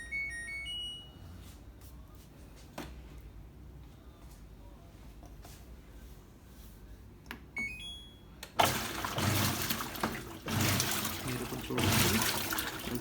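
An LG top-load washing machine, its pulsator just replaced, chirps a few electronic beeps before water gushes loudly into the drum and keeps rushing. A person talks quietly in the background.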